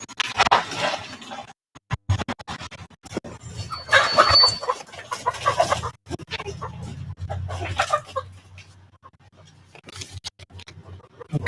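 Chickens cluck and squawk in irregular bursts close by, with some rustling and handling noises mixed in.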